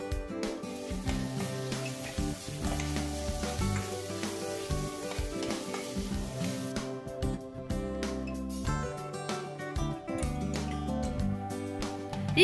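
Two chopped tomatoes go into a pan of fully fried onions, giving a steady, continuous sizzle that sits beneath louder background music throughout.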